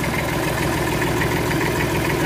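A Massey tractor with its original dynamo setup idles just after starting, a loud, steady low mechanical drone that runs without a break and with no voices.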